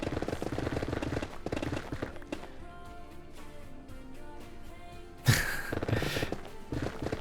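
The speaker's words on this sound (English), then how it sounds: "People are setting off fireworks already." Distant fireworks thud in scattered booms outside, one sharper bang standing out near the end, over a quiet indoor background with Minecraft game tones or music.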